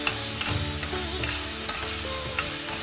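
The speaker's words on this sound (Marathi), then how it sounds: "आलं लसूण, हिरवी मिरचीची जी पेस्ट आहे ती, कांदा, त्यानंतर काजू, हे सगळे खूप छान परतल्या गेलं" Ginger-garlic-green chili paste, onion and cashews sauté in oil for Nagpuri popat bhat, a low continuous sizzle with regular scraping knocks of a spoon stirring the pan, close and unaccompanied by speech.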